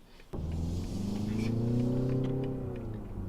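A 2019 BMW 330 in sport mode pipes engine sound into the cabin: a sudden rise into a smooth, rising harmonic drone that swells steadily as the car accelerates, close and without talk.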